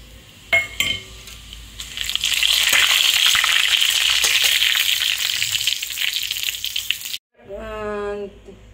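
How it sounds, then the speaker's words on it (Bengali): Dry red chillies, bay leaf and whole cumin crackle and hiss loudly in hot oil in a kadai for several seconds after a few clinks, then a voice speaks briefly as the sizzle fades. "এবার এর মধ্যে দিয়ে দিলাম গোটা শুকনো লঙ্কা, তেজপাতা আর গোটা জিরে ফোড়নে"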